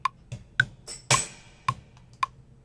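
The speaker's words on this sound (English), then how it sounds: "Those are very aggressive snares." Sharp snare drum hits played in a loose pattern with a heavy bass thump on some strokes, fairly close, with quieter gaps between the strikes at a live music session.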